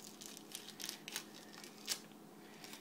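Scissors snipping open raw pork packaging in a kitchen, with faint crinkles and tears of plastic, a few quiet cuts spread across a short moment.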